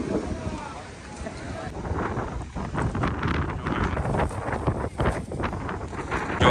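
Strong sea wind gusts along the rocky seashore near the Bhadkeshwar Mahadev temple at Dwarka, roaring and buffeting the microphone in an unbroken rush while a person talks over it.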